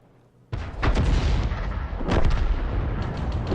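Tank cannon shots fired in a tank video game, with loud booming blasts at about 0.5 s and again near 2.1 s, followed by sustained rumbling battle noise and no talk.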